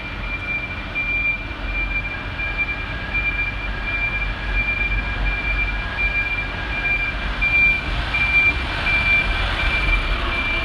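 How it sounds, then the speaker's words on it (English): A garbage truck arrives with a steady series of high, evenly spaced reversing beeps over a loud continuous diesel engine rumble. "here comes the bin man about to take away the alcohol from the weekend"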